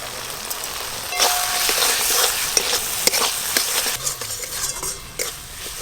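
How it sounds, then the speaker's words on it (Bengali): Spices frying for khichuri in a large pot, a soft sizzle under repeated clinks and scrapes of a metal spoon stirring against the pan, close and uneven, with no talk. "খিচুড়ির জন্য মশলা কষানো হয়ে গেছে"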